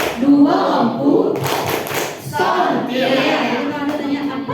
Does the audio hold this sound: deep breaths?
no